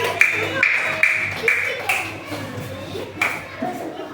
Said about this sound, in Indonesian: Ya, tepuk tangan buat kelompok 1 yang sudah maju presentasi.